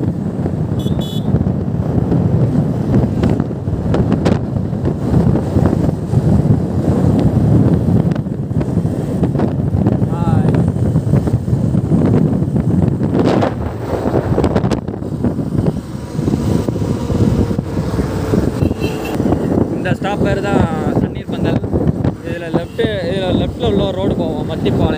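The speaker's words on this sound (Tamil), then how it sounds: "என் முடியெல்லாம் கலையுதுங்க காற்றுல, அந்தளவுக்கு ஸ்பீடில் போய்ட்டுருக்கு" Heavy wind buffeting a microphone while riding a vehicle at around 60 km/h, a loud constant low roar with gusty rumble throughout, and a person talking over it.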